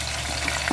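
Masala of tomato paste, onion and garlic fries in a pan while lauki and dal are cooked, giving a brief, steady, close sizzle with no voices.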